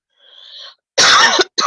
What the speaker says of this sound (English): You'll have to forgive me for the cough.